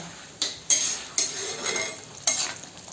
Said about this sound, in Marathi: आता चांगला ढवळून घेते.